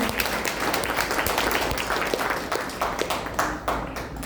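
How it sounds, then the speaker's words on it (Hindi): An audience at a junior Arya Samaj children's programme applauds loudly, a thick continuous patter of many hands that fades slightly toward the end. "वैदिक के लिए एक बार फिर से जोरदार तालियां।"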